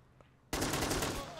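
Gunfire in the Red Rising mod video game: after a quiet moment, a sudden dense burst of rapid automatic shots erupts loud and sustained.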